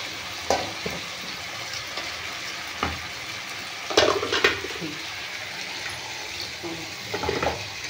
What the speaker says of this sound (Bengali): চলো, এবার আমি জল দিয়ে দিচ্ছি